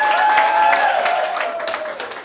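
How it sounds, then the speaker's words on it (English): A variety show audience in New York claps for a volunteer called up to the stage. The applause is steady and loud, with a sustained tonal hum running beneath it. "round of applause for Micah"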